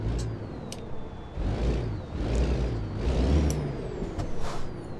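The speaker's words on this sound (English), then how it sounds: "Check out our trailer brakes here real quick." Trailer air brakes on a truck in American Truck Simulator release several sharp hissing bursts over a low idling engine rumble, loud and close, with no talking.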